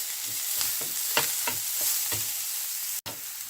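Onion and green chilli sautéing in a pan for curd vada tempering, a steady close sizzle with regular spatula stirring strokes roughly every third of a second, no voices.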